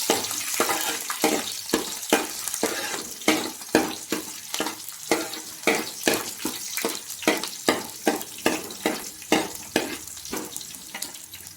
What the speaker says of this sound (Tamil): இப்போ வெந்தயம் சேர்த்துட்டு பூண்டு போட்டு நல்லா வதக்கணும்.